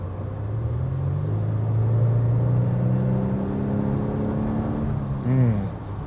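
A Renault Samsung SM6 (Renault Talisman) 1.3 turbo petrol engine revs up steadily, the rumble rising in pitch as it accelerates, loud and close, easing off near the end.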